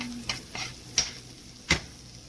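Butter goes into a cooking pot and sizzles softly. A few sharp clicks and taps of a utensil against the pot stand out over the quiet frying, and nobody talks.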